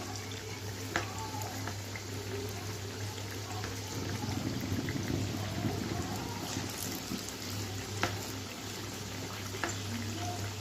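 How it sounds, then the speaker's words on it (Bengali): Chowmein pakoras deep fry in hot oil over a low flame, giving a steady close bubbling and sizzling throughout with a few small pops. "পকোড়াগুলোকে আমি ডুবো তেলে এরকমভাবে ছেড়ে দিলাম।"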